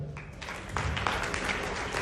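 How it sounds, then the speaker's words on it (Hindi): An audience at a network marketing award event breaks into applause, a crowd clapping steadily and growing louder after a brief quiet start. "आपकी जोरदार तालियों के साथ please welcome Narsi Grewal sir."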